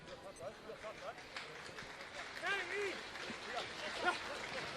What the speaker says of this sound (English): Generous applause as well for the man born in Suva, Fiji.